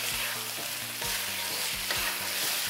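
Food sizzling in a hot pan with ketchup added, stirred with steady scraping strokes over a constant broadband fry hiss, close and fairly loud, with no talking.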